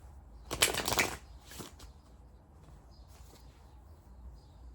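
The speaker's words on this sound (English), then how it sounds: "I don't know why I'm shuffling these cards so many times." A quick, crisp riffle of shuffled tarot cards up close, followed by a few softer flicks and quiet handling in a still room.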